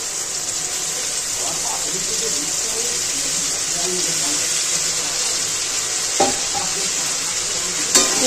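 Boiled pasta and fried vegetables sizzle in a pan as they are stirred, a steady hissing fry with a few sharp scrapes and knocks of the utensil, while someone speaks quietly.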